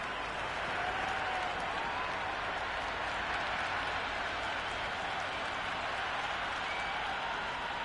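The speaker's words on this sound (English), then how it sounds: "The crowd are really getting quite raucous. It's going to be difficult to focus down in the middle with all this noise." A cricket crowd at a women's match roars and applauds a big shot, a steady, dense wash of distant cheering and clapping that holds at an even level throughout with no speech over it.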